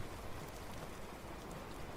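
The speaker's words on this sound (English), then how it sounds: "but this one has too much rain." Steady rain ambience used as a soundtrack, a dense, even patter of drops filling the whole stretch at low level, with no voices over it.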